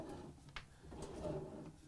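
A soft-closing drawer in a 2023 Newmar Supreme Aire 4051 motorhome slides shut, a quiet, brief glide and muted bump heard close up with no talking.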